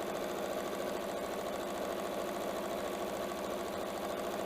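A sewing machine stitches fabric at a fast even pace, a dense rapid mechanical whir that runs loud and unbroken, with no talking.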